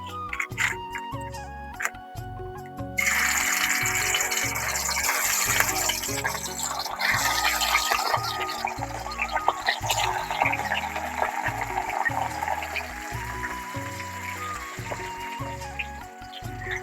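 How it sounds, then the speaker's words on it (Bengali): Bata fish hit hot oil in a pan, and a dense crackling sizzle starts a few seconds in and continues steadily over a rhythmic background sound. "তেলটা গরম হয়ে গেছে আমার, মাছগুলোকে এবার ছেড়ে দেব"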